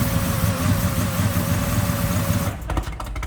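A Jeep Trackhawk fitted with a swapped Demon engine idles roughly and loudly up close, its uneven rumble steady before breaking into a choppier, stumbling pattern near the end.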